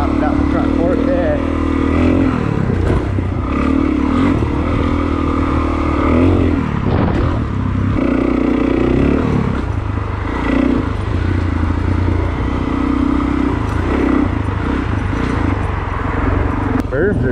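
A dual sport motorcycle rides laps through a muddy, undrained pit in a Seattle urban trail area, its engine droning and revving in surges up close, with a rider talking over the noise.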